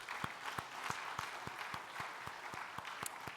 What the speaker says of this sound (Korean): 우리가 격려하고 축복하는 박수 한번 하겠습니다